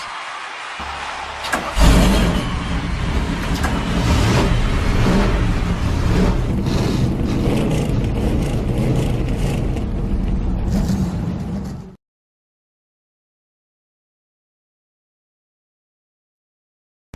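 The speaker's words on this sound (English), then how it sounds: "Gentlemen, start your engines!" Race car engines at Daytona fire up together into a loud, sustained roar with revving and rumbling that holds steady for about ten seconds, then cuts off abruptly to silence.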